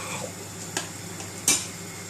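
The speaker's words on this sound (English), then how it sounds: "keep stirring the pasta" A utensil stirring pasta in a pot, a few scattered clinks and scrapes against the metal with one louder knock near the end, set over a quiet steady kitchen hum.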